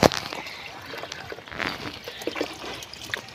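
Water running from a pipe in an organic vegetable garden, a soft continuous trickle and splash with small irregular bursts, fairly faint and close.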